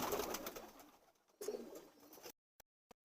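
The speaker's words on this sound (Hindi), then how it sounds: "बड़ा बीबा कबूतर है, बड़े आराम से देखने दे रहा है, बड़ा फ्रेंडली।" A tame pigeon coos in two soft, low bursts close by, the second shorter, followed by near silence with a couple of faint clicks.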